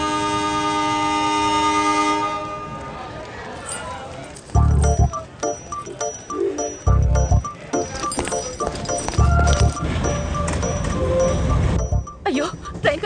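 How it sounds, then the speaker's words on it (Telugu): A passenger train pulls out of a station during a rainy film scene, its horn sounding before the rolling rumble and clatter of the wagons, with people talking over it. "అయ్యో ట్రైన్ కదిలిపోతుంది"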